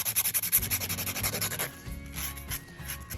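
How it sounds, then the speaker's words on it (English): Rhythmic back-and-forth rasping of a nail file gently shaping a polygel nail extension on dual forms, quick close strokes repeating steadily with no talk. "You don't need to apply a lot of pressure when you're filing."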